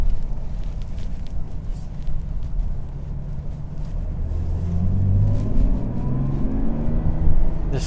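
A 2020 Mercedes GLS 400d diesel SUV, weighing almost 2.5 tons, takes a corner with a steady low engine rumble and road noise that swells and deepens toward the end as it pulls through the bend.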